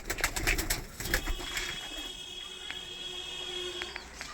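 Pigeons coo and flutter at close range in a home loft, with a few bursts of wing and scuffling noise at first, then steady soft cooing with a faint high tone over it.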